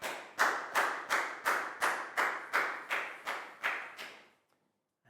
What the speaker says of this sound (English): High five and a big round of applause for that gal